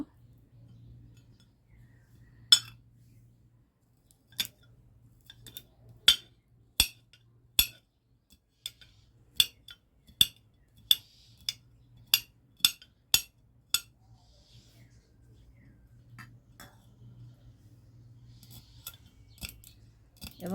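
Sharp cutting snips, about a dozen in a steady rhythm, as ingredients for a homemade herbal hair oil are cut at close range over a low steady hum, with a few clinks near the end.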